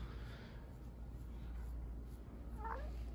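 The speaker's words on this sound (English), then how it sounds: "that's that's a cat that's been a mom before" A single cat meows once near the end, faint and short, over a steady low hum of background noise in an indoor setting.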